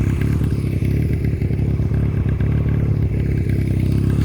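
A 1989 Honda Rebel CMX 250 motorcycle runs steadily up close, a loud continuous engine drone with a fast, rattly pulse and some mechanical clatter throughout, with no talking.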